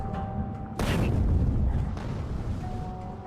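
Artillery in a late-game base-defense game fires a single heavy boom that rolls into a low, rumbling tail lasting about a second, over a thin background hum. No one speaks.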